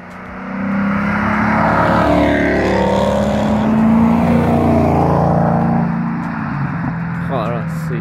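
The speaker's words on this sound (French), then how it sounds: "la Mustang et la L4 qui passent." A Ford Mustang and a Renault 4 drive past on a wet roadside, engines droning loudly and steadily for several seconds before easing slightly as they move off.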